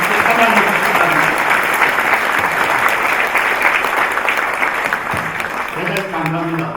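Loud, sustained applause from a large crowd at an inauguration ceremony fills the clip, fading slightly at the end as a voice begins speaking.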